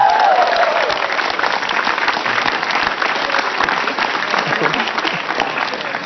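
Audience applause, a steady wash of many hands clapping with crowd noise and some voices mixed in, holding at an even level throughout.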